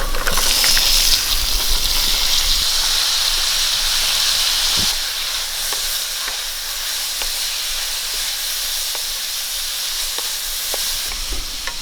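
Chopped papaya hits a hot pan with a loud, steamy hiss that eases slightly after a few seconds into a steady frying sizzle, dotted with faint stirring clicks.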